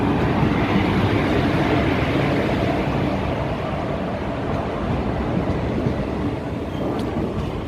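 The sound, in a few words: Jabalpur Pune Express train at Jabalpur station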